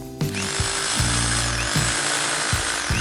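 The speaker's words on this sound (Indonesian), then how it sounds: "Ya, jadi untuk pengeboran beton kita harus menggunakan bore impact ya." An Ingco RH10508 rotary hammer drills into concrete in impact mode, a loud, continuous hammering whine with a steady pitch and brief dips every half second or so as pressure shifts.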